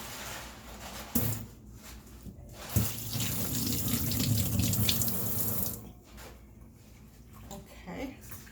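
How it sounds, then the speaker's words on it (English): Kitchen faucet running as garlic cloves are rinsed under it, water splashing steadily for a few seconds in a small domestic room, with brief taps before and a person talking around it. "So I'm just going to rinse this real quick."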